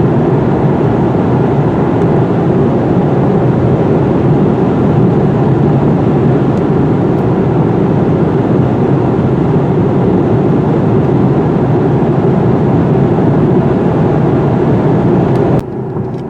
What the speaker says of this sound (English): There's a bit of rumbling from the run-flat tires